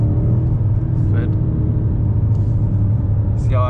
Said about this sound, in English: See how I kind of revved it there on purpose